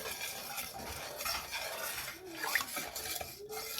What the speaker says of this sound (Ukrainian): І все це ретельно перемішати.